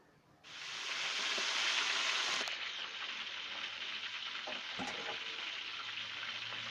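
Quail hits hot oil with garlic, ginger, onion and chili paste, bursting into a loud close sizzle that settles into steady frying with a few brief clatters, no voices.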